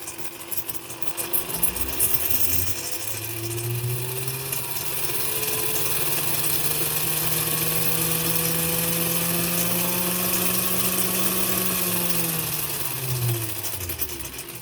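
Little electric motor inside a Delco radio power supply (model P-612) running at about 5 volts on the bench, a whirring hum that rises as it spins up, holds steady and then winds down near the end, heard alone.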